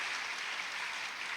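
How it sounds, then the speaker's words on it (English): Steady, distant-sounding applause from a school graduation audience for eighth graders, a soft even wash of clapping with no breaks or voices. "a round of applause."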